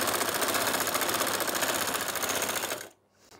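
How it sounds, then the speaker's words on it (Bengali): Sewing machine stitching palazzo trousers, running in a fast, steady mechanical chatter up close for about three seconds before stopping abruptly, leaving near silence. "এই সাইডটা আমি এভাবে সেলাই করে নিব"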